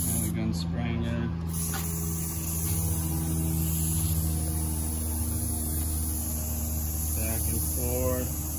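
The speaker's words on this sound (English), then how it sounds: "And again, spraying it." A spray gun hisses steadily throughout, spraying gelcoat onto a Grady White boat, a constant loud airy spray with a low hum beneath, while a voice speaks briefly near the start and end.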